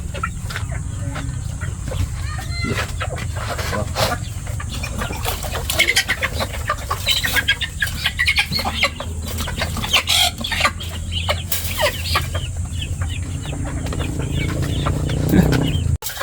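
SBR breeder chickens clucking continuously at close range, many overlapping short clucks and squawks from a flock over a steady low background hum.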